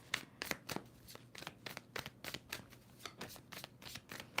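Repeated crisp riffling bursts of tarot cards being shuffled, about a dozen quick flutters in a steady rhythm, close and clear with no talking.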